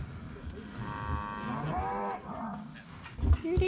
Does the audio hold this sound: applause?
no